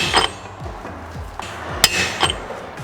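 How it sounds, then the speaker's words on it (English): A hammer drives a pinion bearing onto the pinion shaft of a Ram 1500 rear axle during a 3.92 gear swap, giving a few sharp metallic strikes with ringing clinks in a workshop. "the pinion bearing actually has to kind of be driven onto the pinion shaft. That's why I have to hold it while he hammers."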